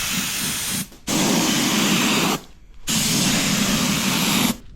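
Contact adhesive sprayed from a spray gun onto a custom truck interior: three sustained, loud hissing bursts, each a second or more long, separated by brief pauses.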